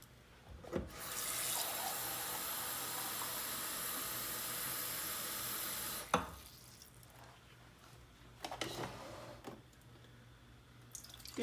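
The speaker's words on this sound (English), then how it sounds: "Fill mug with water and pour into Keurig." Tap water runs steadily into a mug, a continuous loud rush lasting several seconds before cutting off, followed by a few quieter clinks and drips of pouring into a Keurig coffee maker.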